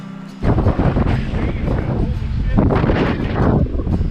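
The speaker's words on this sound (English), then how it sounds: "Tad bit windy." Heavy wind buffets the microphone in loud, rumbling gusts while winter trout fishing, nearly continuous after a brief quiet start.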